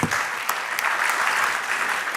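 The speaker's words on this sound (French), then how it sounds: "On peut l'applaudir." Audience applause at a round-table conference session, a dense, loud burst of clapping that stays even throughout the short stretch, with no talk over it.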